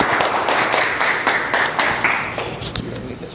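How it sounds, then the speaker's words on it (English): A conference breakout audience on HR and AI in Birmingham claps for an incoming speaker, with a scatter of distinct hand claps that thin out and fade within a few seconds. "So, round of applause, please."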